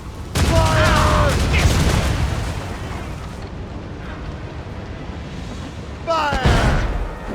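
Ship cannons in Assassin's Creed Rogue boom in a loud volley, followed by a lingering rumble, then another blast near the end, with shouted voices over the fire.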